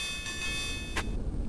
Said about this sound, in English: The bell has tolled!